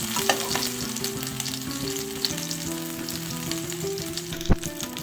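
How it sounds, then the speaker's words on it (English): Pieces of cauliflower crackle and sizzle loudly in a hot pan, a close, continuous frying hiss with a sharp clatter near the end. "this side is also frying well"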